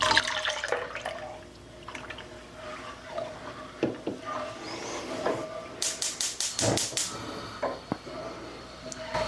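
Water mixed with citric acid is poured into milk in a home kitchen, a soft trickle and splash among clinks and handling noises, with a run of rapid knocks in the middle.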